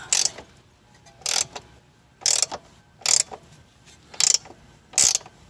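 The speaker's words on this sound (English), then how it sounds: "now you can see that the bolt is spinning" A ratchet turns a bolt on the front control arm of a BMW E90 M3, giving six short, rapid clicking bursts spaced about a second apart, close and fairly loud, with no talking.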